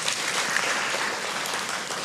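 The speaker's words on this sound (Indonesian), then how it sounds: "Kasih tepuk tangan untuk Tuhan kita." A church congregation at GMS Church claps in praise, giving a fairly soft but continuous wash of many hands clapping throughout.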